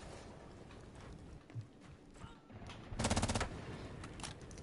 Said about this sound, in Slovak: Maťo sa tam strieľal s Fastym